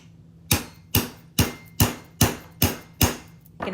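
Seven sharp, evenly spaced hammer strikes on a crystal rivet set into a metal bracelet blank, each a loud close metallic tap with a quick decay, steady rhythm, no talking.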